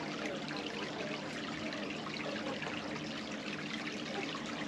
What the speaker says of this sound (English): The River Leven runs through the site. At this point it's just a gentle meandering stream.